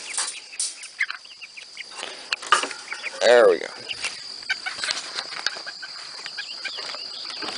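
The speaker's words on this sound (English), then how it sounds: "That soft, kind of scratchy, shrieking sound was the rooster trying to crow." A rooster makes a soft, scratchy, strained attempt at crowing, a single brief shriek in the middle of outdoor farmyard ambience, close by, with a person speaking briefly nearby.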